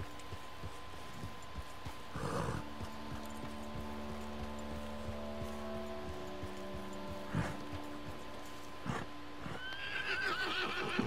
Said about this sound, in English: see if I can get down without killing my horse